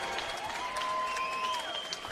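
Arena crowd at a championship boxing match at Fantasy Springs applauding the two fighters after the bout, a dense, moderately distant clapping with a voice faintly over it.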